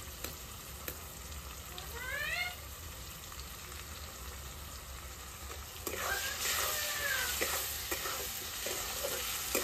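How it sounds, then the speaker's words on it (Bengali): Ginger-garlic paste, cumin and chili powder hit hot oil in a pan and are stirred, giving a steady close sizzle and frying hiss that grows louder partway through, with scraping and stirring clatter and a brief voice underneath. "এবার আমি আদা রসুন বাটা দিয়ে দেবো। জিরে গুঁড়ো দিয়ে দেবো আর দিয়ে দেবো লঙ্কার গুঁড়ো।"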